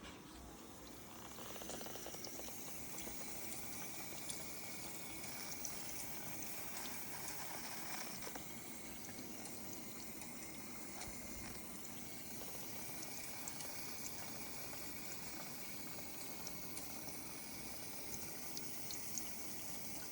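Water runs steadily into a newly installed GE dishwasher, a continuous rushing fill with pump hum lasting throughout at moderate, even loudness, with no voices.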